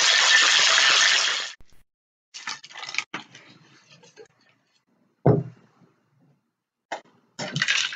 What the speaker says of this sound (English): We just need to add some ice. Give it a shake for about 10-15 seconds.